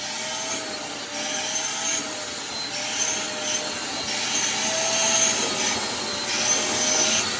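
A vacuum cleaner grooming loose fur from a dog's coat, a steady close whine and airy rush that holds for the whole stretch with slight shifts in pitch as the nozzle moves, with no talk over it.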